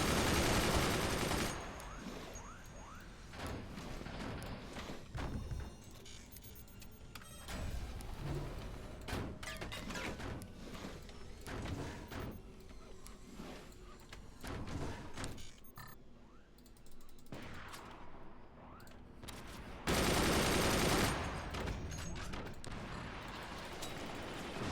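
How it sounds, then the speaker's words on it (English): Rockets and heavy weapons firing in the artillery strategy game Forts, a dense, continuous barrage of overlapping blasts and launches with louder bursts near the end and no talk. "it's time for my own rockets to come out"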